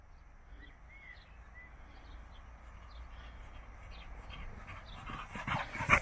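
A dog pants steadily on a walk along a canal towpath, a quiet, close breathing rhythm that runs for several seconds and swells slightly toward the end.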